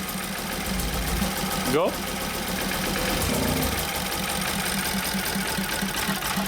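A BMW X3 engine cranks and catches during troubleshooting for a no-start fault, its steady mid-pitched running sound broken by a brief sharp burst partway through, with a voice speaking over it.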